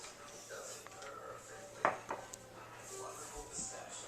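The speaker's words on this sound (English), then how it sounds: "We'll get a spatula and get all the flour around the sides of it" A spatula scrapes flour around the sides of a mixing bowl while pound cake batter is being made, giving soft scraping and light knocks with one sharper clatter near the middle, under low room noise.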